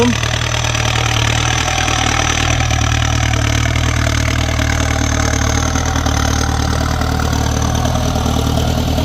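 A Ford 6640 tractor engine runs steadily while harrowing and plowing damp soil, a loud continuous low drone with no speech.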